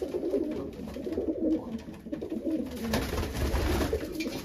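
Tumbler pigeons coo steadily in a coop, soft layered calls from several birds overlapping at close range over a faint background hum.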